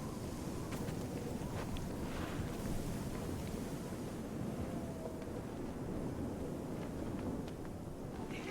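Strong Arctic wind blows steadily in Nunavut at sunrise, a dense, rushing roar buffeting the microphone with gusty rumble and no voices.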